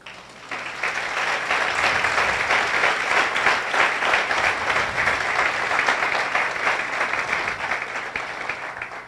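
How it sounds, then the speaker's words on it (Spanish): A church congregation claps together in sustained, dense applause that stays loud and steady throughout before easing slightly at the very end. "Exalte al Señor a través de sus palmas."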